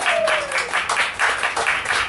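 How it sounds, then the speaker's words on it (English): Crowd applause and clapping rising in rhythmic bursts, fairly loud and near, with a faint whistle-like tone at the start. "And the crowd goes wild."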